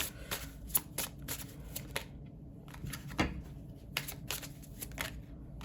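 Tarot cards being riffled and drawn from a deck, repeated crisp papery flutters and snaps in quick irregular bursts, close and quiet against faint room noise, with no speech.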